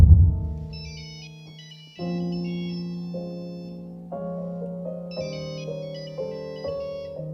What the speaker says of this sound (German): warum wird man immer angerufen, wenn man was tut?